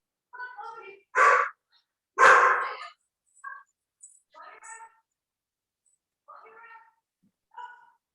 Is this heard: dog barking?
yes